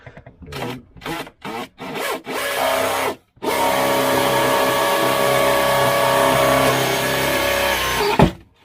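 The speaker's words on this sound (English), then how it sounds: "I'm just doing a minimum size hole because I don't really like making holes in my boat" A power drill gives a few short bursts, then whines steadily into a boat's hull for a small hole for several seconds before stopping abruptly.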